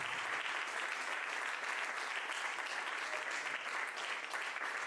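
A crowd at a vermouth anniversary celebration breaks into continuous applause, a thick, even wash of many hands clapping at a constant level from start to finish.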